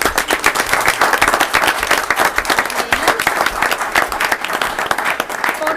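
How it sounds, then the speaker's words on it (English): A board meeting audience applauds the outgoing student trustee with loud, dense, continuous clapping throughout. "Let's give him a round of applause."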